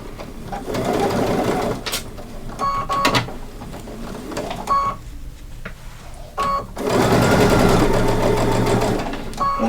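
A sewing machine runs in two long bursts of stitching, loud and close, with brief stops and lighter clicks and handling between them. It belongs to a session sewing a Santa gift bag.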